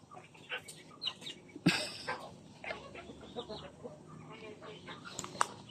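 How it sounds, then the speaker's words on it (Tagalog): Chickens cluck in short, scattered bursts at a distance, with a sharper squawk partway through over a quiet outdoor background. "Mga ano yan, manok."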